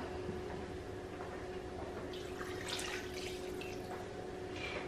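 Water poured from a cup into cupcake batter in a home kitchen, a soft continuous trickle and splash close by with faint dripping, no talking.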